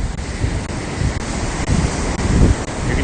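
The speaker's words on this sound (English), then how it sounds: "You can hear the crashing waves next to me" Ocean waves crash on the shore nearby, a loud continuous roar of surf with rolling swells, mixed with gusty wind buffeting the microphone.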